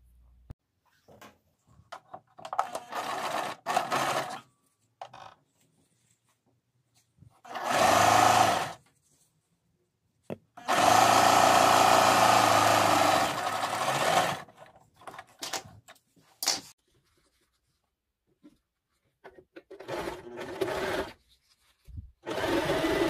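A sewing machine stitches fabric for a coquette bow in bursts: two loud whirring runs, one short and one longer, separated by quiet handling noises and small clicks, close by with no speech.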